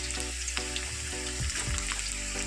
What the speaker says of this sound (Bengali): গাজরটা একটু ভেজে নিই